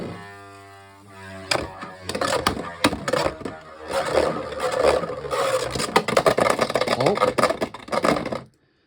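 A Beyblade HMS Advance Striker spins after launch in a stadium, a rattling scrape and whirring grind with many sharp clicks, close and continuous, before stopping abruptly; a voice is heard at the start.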